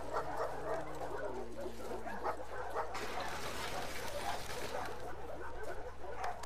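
A dog in The Last of Us Part II yips and whimpers in short bursts over steady game ambience, with a sustained tone early and a rise in broadband noise midway.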